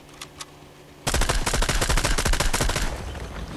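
Rapid automatic gunfire in Fortnite Chapter 4 Season 4 bursts out after a brief quiet moment and continues as a loud, dense rattle of shots until the end.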